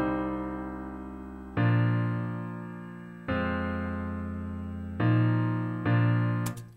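A chord progression from a song played on a chord track in a studio, sustained synthesized chords changing about every one and a half seconds, each struck cleanly then slowly fading, with faster changes toward the end.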